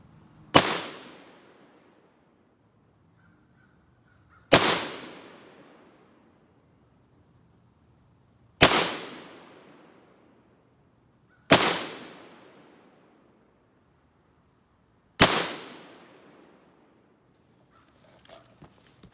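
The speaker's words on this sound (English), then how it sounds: "We're gonna lay down a 5-shot group real quick, see how it prints" An AR-15 rifle at a range fires a five-shot group of 69-grain Sierra MatchKing loads, five loud, sharp reports a few seconds apart, each trailing off in a ringing decay, with no voices.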